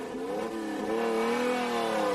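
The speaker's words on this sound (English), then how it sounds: "quite a careful start from John in the older car as he accelerates away up towards the first hairpin" An older Ferrari Dino 246 race car accelerates away from the start of a hillclimb toward the first hairpin, its engine note rising through the revs in a loud, continuous snarl.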